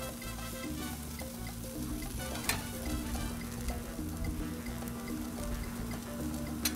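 Giant lobster tails sizzling on a Blackstone 22-inch griddle, a loud, dense, continuous frying hiss with occasional sharper pops and scraping from stirring.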